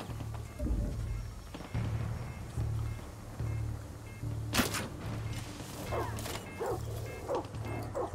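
A dog barks repeatedly in Far Cry 6 gameplay, several sharp yips later in the stretch over a droning engine-like hum and ambient game noise, no talk.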